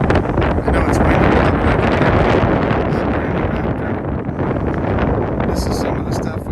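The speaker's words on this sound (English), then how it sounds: "I know it's windy." Strong wind blows outdoors beside a large 54-inch-tired truck, buffeting the microphone in a loud, constant roar, with a voice partly buried beneath it.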